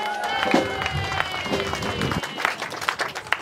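Mourners clap together at a memorial service, the applause mixed with crowd noise and voices in a busy, close room.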